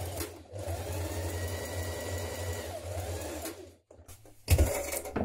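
A sewing machine stitches the short edges of dress armbands together, running steadily and near for about three and a half seconds, then stopping briefly before a louder start.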